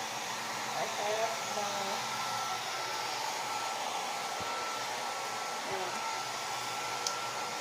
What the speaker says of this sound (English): That's the hair bonnet dryer